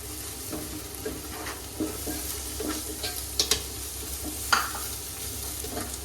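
Coriander powder stirred into a frying egg masala sizzles steadily in the pan, with a few sharp scrapes and clicks of the spoon against the metal, close and at a moderate level.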